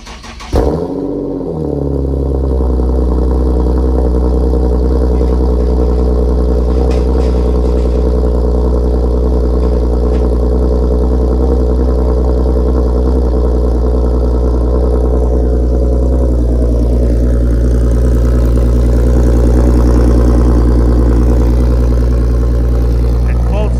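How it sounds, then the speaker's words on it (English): Infiniti G37 fitted with a Motordyne exhaust and art pipes cold-starts with a loud crank and flare, then settles into a deep, steady, loud high idle that carries on for over twenty seconds. "let's give it another cold startup real quick so you guys can hear it"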